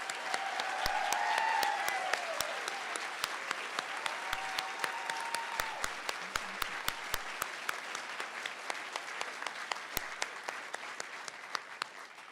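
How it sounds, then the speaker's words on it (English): Sustained applause for BSN nursing graduates at a pinning ceremony rolls on from a large seated crowd, a dense, even wash of clapping with a few sharper claps standing out, swelling early then easing slightly. "one more round of applause"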